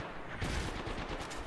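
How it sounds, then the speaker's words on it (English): Gunfire in the Apex Legends battle royale game: a dense, continuous burst of shots crackles close and loud for about a second with no speech over it. "They're shooting at me."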